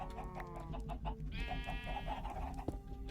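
Chickens cluck in a Minecraft modpack game, Stoneblock 3, inside a room full of chickens: a busy, continuous chorus of short clucks and squawks with one longer drawn-out call in the middle, moderately loud and close.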